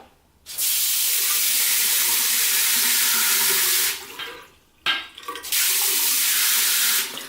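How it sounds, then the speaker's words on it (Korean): A water-saving push-button shower head sprays water in a steady hiss that stops briefly twice and starts again, with no one talking. "여기 버튼을 누르면 나오고 다시 빼면 물이 멈추는 간단한 절수형 샤워기인데요"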